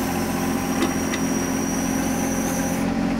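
John Deere 1025R compact tractor with backhoe, its engine running at a steady idle-like hum, close and constant.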